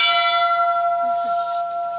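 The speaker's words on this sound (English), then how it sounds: "he used to ring the bell to say welcome." A bell at Ernest Hemingway's house is struck once and rings out clearly, its bright metallic tone holding and slowly fading over two seconds, with faint talk behind it.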